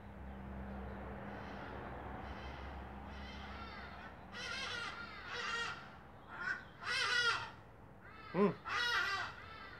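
Crows caw several times in short, harsh bursts that grow louder toward the end, heard over a low steady background hum.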